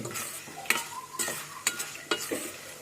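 Roasted gram dry-roasting in a pan for a poha snack, a soft steady sizzle broken by several sharp stirring scrapes and clinks at irregular intervals, no voices.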